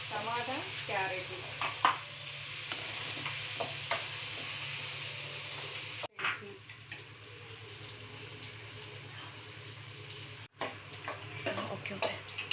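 Peas, onion, tomato and carrot fry steadily in a pan with a continuous soft sizzle, broken by occasional stirring clinks and a couple of brief pauses.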